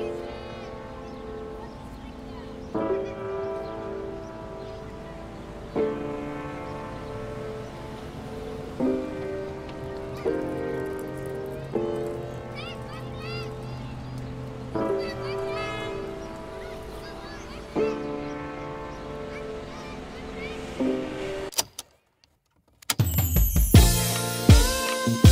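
Layered ambience of a playground full of kids and a city street, mixed under steady repeating musical chords; after a short dropout near the end a louder, brighter wash of noise takes over.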